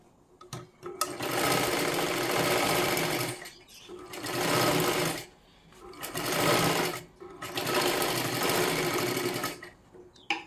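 A sewing machine double-stitches a silky princess blouse in four loud bursts of rapid whirring stitching, each separated by short pauses, heard close up.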